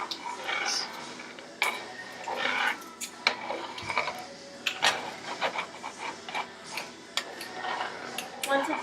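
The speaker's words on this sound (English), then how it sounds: "Oh, gotta stir this a little. It's starting to get thick." A spoon stirs a thickening Italian pasta sauce in a pot, giving repeated scraping and clinking strokes against the metal in an uneven rhythm, close and fairly clear.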